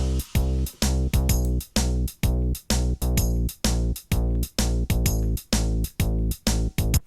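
A Korg M1 verse for Pokémon-style music chugs along in a swung, quantized rhythm: short repeated synth bass and chord stabs with regular gaps, steady and loud with no voices.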